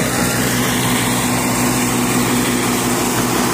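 An old 485 tractor engine runs steadily at close range, a constant droning hum with a mechanical whine on top, holding even and loud throughout with no pauses.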